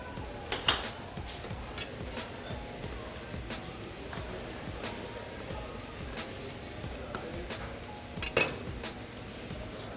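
A knife chops baked pepper finely on a board, irregular close taps and a couple of sharper clinks against a quiet kitchen background, without speech.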